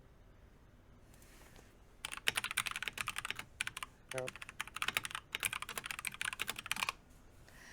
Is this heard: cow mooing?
no